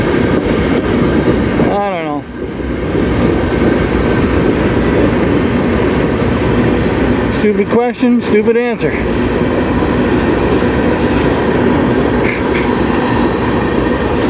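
A CN freight train rolls past on the Strathroy Subdivision as a steady, loud rumble throughout, with brief wheel squeals near the start and in the middle, while a person talks over it.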